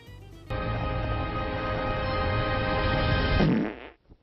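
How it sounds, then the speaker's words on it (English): A long, loud, buzzy fart sound effect from the animated film Shrek 2, a steady flatulent drone of about three seconds that sputters out abruptly at the end, heard alone without talking. "would you mind not farting while I'm saving the world?"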